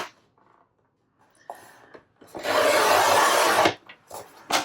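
Scissors or a trimmer cutting a strip of old book-page paper: a few faint snips, then a loud, sustained rasping cut about a second long, followed by short scraping bursts.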